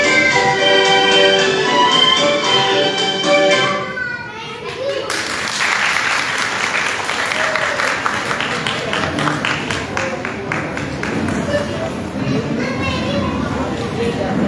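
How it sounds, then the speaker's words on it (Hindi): An audience applauds after a children's performance, scattered clapping filling the room once a sung song with music ends abruptly partway through, with crowd and children's voices mixed in. "तालियों की गूंज ज़रा कम है"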